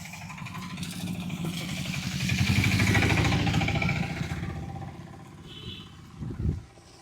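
Motorcycle engines, two bikes near Malampuzha in Palakkad, Kerala, rumble close by in light rain, swelling louder mid-way then easing off, with a brief sharper rev near the end.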